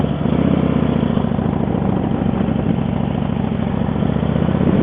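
A motorcycle engine runs steadily on a ride along a lake, a continuous mid-to-low drone with buffeting wind, loud and close with no letup.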